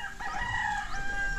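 Farm chickens clucking and a rooster crowing nearby, a drawn-out tonal call with overlapping clucks, fairly close and alone without talk.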